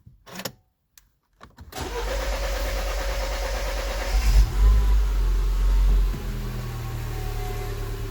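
A BMW Mini R56 petrol engine cranks briefly after a few quiet clicks, then catches and starts, settling into a loud, steady idle with a short rise in revs partway through, heard alone and up close.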